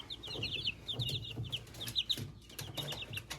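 Baby chicks in a brooder make soft, rapid peeping and clucking calls in quick repeated bursts, close by and fairly quiet, with no talking.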